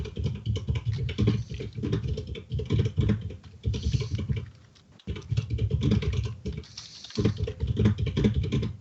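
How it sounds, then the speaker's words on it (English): Heavy, fast typing on a computer keyboard in a room during a tabletop game session, with dense continuous clatter that breaks off briefly twice before resuming. "Careful, heavy typer."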